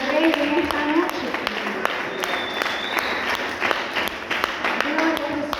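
A church congregation claps in praise during a worship service, with steady applause running under and around the voices of people talking.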